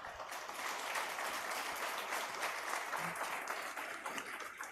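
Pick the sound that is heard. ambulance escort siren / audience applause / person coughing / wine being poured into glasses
audience applause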